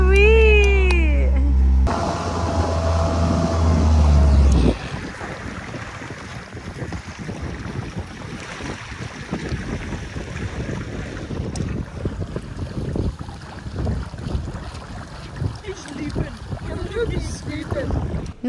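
A sailboat glides along in light wind off Key West. Steady wind rush and water wash carry on after an opening stretch of music and loud low rumble, with no talking.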